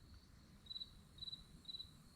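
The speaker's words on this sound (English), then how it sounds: "Yeah, you got crickets." Crickets chirp at night outdoors near a pond in three evenly spaced bursts, each a quick trill of several pulses, faint against a low rumbling background.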